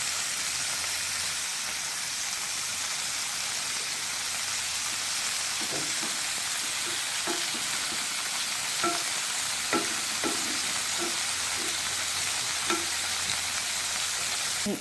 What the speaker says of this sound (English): my tofu has been roasting for a couple of minutes now, and it's cooked through